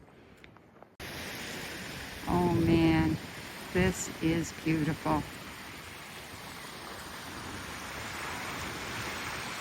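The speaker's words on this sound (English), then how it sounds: "I can hear the sound of some waves crashing into some caves." Distant surf crashes into sea caves at Gaff Point on a foggy Nova Scotia coast, heard as a steady broadband roar. Someone speaks briefly over it.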